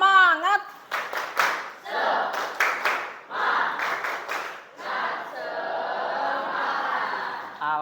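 A classroom group performs the 'tepuk semangat' spirit clap, sets of quick rhythmic claps in patterned bursts mixed with voices, then a sustained stretch of clapping and chanting.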